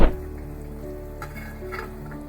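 Blanched green peas and sautéed fenugreek leaves frying and being stirred together in a pan, a soft continuous sizzle with light stirring scrapes and a sharp clatter at the start.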